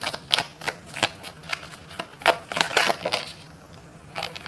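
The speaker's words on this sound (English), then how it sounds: "Let me grab a new card real quick" Tarot cards are handled and drawn from a deck close by, a string of quick crisp flicks and rustles with short pauses between them.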